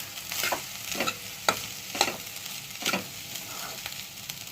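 Grated fresh coconut stirred continuously in a frying pan until it turns pinkish, with regular spatula scrapes over a soft sizzle, close and clear.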